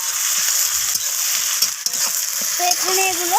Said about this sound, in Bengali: তো সমস্ত কিছু এইভাবে নাড়াচাড়া করে একটু ভেজে নিচ্ছি